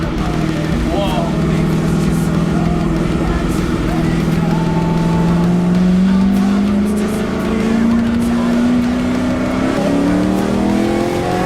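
An Ultima GTR sports car engine climbs steadily in pitch as it accelerates hard along the road, loud and close, with people talking over it.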